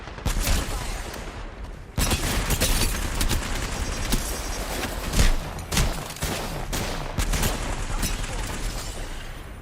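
Rapid video-game gunfire fills the mix, with bursts of automatic fire and single shots going off continuously and loudly, punctuated by a heavier boom around the middle; no one talks during it.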